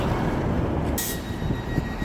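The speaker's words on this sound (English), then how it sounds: "we're going to watch this train go" LNER passenger train pulling away on the line toward Morpeth, a continuous close rumble of wheels and engine with a brief bright hiss partway through, steady and loud throughout.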